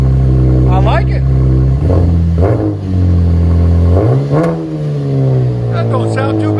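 A 2015 Chevy Camaro with a 3.6L V6 and a REV-9 dual exhaust axle-back kit: resonators removed and replaced by the kit, it idles with a deep, smooth drone, then is revved in a few sharp, rising blips that settle back to idle, loud and close.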